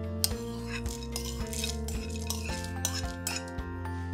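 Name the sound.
pounding peanuts with sugar in mortar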